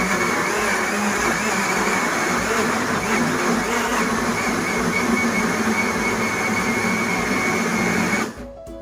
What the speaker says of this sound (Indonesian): kemudian blender hingga halus